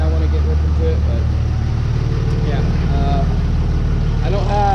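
A third-generation Cummins diesel pickup with a side-exit exhaust and no full-length pipe runs steadily, its loud low rumble constant under someone talking.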